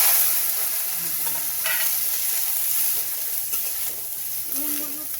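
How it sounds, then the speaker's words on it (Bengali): Cauliflower dry-fries in a pan without salt or turmeric, giving a continuous hissing sizzle close by, with occasional scraping stirs and a faint voice in the background. "আমি খালি শুকনো ভাজলাম।"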